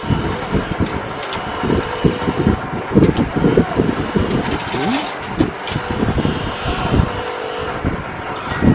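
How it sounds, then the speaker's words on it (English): Strong wind roars across a house building site in the Philippines, a loud, dense, continuous rush buffeting the microphone with gusty surges throughout, and no clear speech over it. "Wind is so heavy."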